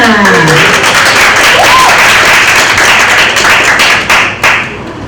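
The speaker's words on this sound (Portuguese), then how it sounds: "Recebemos com aplausos Elê Carmona." Dense applause from a large audience welcoming a speaker, steady and loud for several seconds before thinning out near the end, with faint voices underneath.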